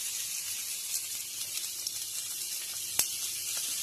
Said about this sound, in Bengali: পেঁয়াজ কুচি, লঙ্কা কুচি আর রসুন কুচি আমি তেলের পরে ছেড়ে দিলাম।